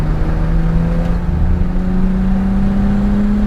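A Nissan Skyline GT-R34 without ABS drives hard on a drift track, its engine pulling steadily and loudly, the pitch climbing as it powers down the straight.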